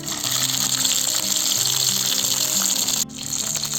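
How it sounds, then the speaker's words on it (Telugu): Tomatoes fry in hot oil left from an earlier batch, giving a dense, continuous hissing sizzle that holds steady and briefly drops out near the end before resuming. "సేమ్ ఆయిల్లో టొమాటోస్ వేసుకున్నాము."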